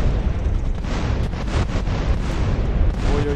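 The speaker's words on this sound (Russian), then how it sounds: "Просто красивый взрыв под конец." A deep, rumbling explosion in a GTA San Andreas weapon mod fills the clip, with heavy low booms and crackling bursts layered on top, loud and sustained.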